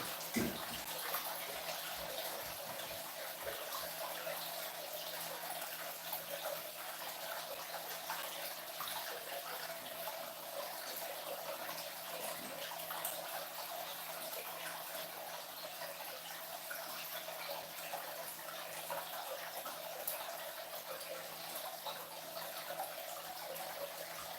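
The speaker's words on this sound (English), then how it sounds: "Let's just stir up any detritus." Water swirling and gushing continuously in a reef aquarium tank as detritus is stirred up during cleaning, a steady close wash of sound with a low pump hum beneath.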